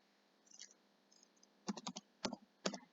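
Someone types on a computer keyboard, giving a few soft clicks and then a quick run of sharp, close keystrokes in an otherwise quiet room.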